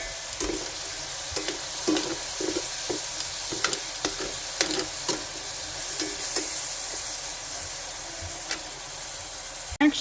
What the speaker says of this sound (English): we're just going to cook and stir that until our stuff is soft